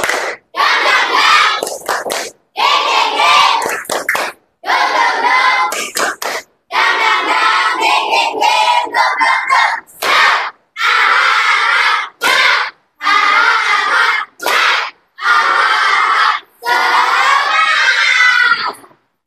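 Classroom of students performing a rhythmic spirit clapping chant, tepuk semangat, loud bursts of unison clapping and shouted voices in short phrases separated by brief pauses.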